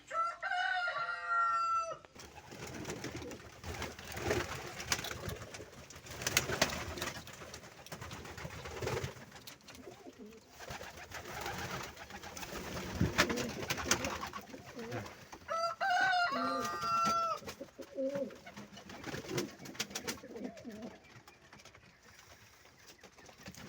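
Sport pigeons coo repeatedly in low, throaty bursts, with other birds calling in bursts near the start and again later over a steady background.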